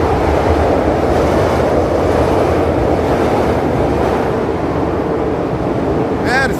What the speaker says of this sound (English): Here, we'll get the train going by.